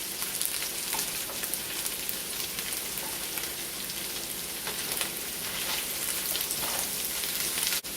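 Boiled potatoes fry in a pan with a steady, dense sizzle and crackle throughout, close and even in loudness, with no talking.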